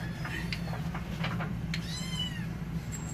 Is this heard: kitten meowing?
yes